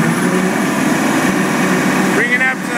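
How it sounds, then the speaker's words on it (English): Steady engine drone from a Kubota L3010 compact tractor as its PTO is engaged to drive a brush hog mower, running loud and close throughout with a rising tone near the end. "just simply supply power to the PTO, simply let off the clutch"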